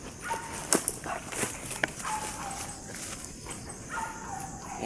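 A dog barks a few times outdoors, moderately close, with faint whines between barks over a steady background hiss.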